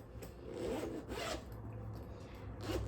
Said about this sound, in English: unzip the zipper all the way across the case